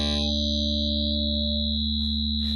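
Vital synthesizer sounds a sustained, harmonically rich non-saw tone that steadily thins as upper harmonics fade away, with a buzzy, effected edge and short noisy bursts near the end, continuous and close without speech.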